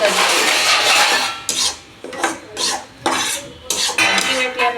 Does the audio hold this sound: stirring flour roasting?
yes